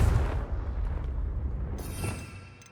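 A Confringo fire-spell blast in the Hogwarts Legacy video game: a deep booming explosion that hits hard at the start, then rumbles on and slowly fades, with a sharper crackle near the end.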